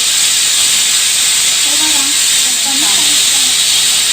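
A pressure cooker whistle releases steam in a loud, unbroken hiss that lasts the whole time, with faint wavering tones underneath.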